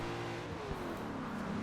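A V8-swapped Nissan Silvia S13 drift car in Forza Horizon 2 revs steadily in an online drifting session, its engine droning continuously and fairly close with a slight pitch sweep, no voices.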